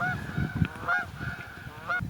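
Several geese honk in short bursts over swift river water, with three or four distinct calls spaced across the moment against steady low rushing noise.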